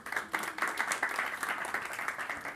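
Light applause from a workshop audience for a participant, a brief patter of clapping at moderate level, fairly sparse and lasting a couple of seconds.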